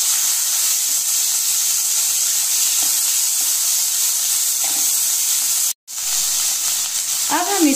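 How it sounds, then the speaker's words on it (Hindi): Cluster beans (guar phali) frying in a pan with asafoetida and turmeric make a loud, continuous hiss. A momentary dropout breaks the sound, and a brief voice-like sound rises near the end. "अब हम इसमें डालेंगे ग्वार फली और इसे अच्छे से मिक्स कर देंगे"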